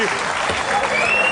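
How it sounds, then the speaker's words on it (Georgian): An audience at a comedy show applauds with dense, continuous clapping throughout, fairly close and loud. "შეიძლება თქვენი აპლოდისმენტები"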